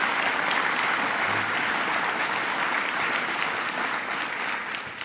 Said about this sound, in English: Let's give Brian Stratton a round of applause.